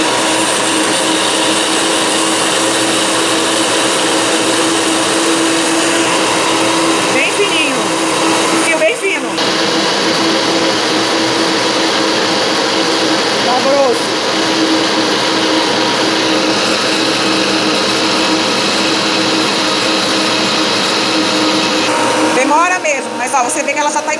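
Kitchen blender whirring steadily as it mixes homemade coriander or herb mayonnaise, loud and continuous with brief dips in pitch as oil is poured in and the mix thickens and strains the motor.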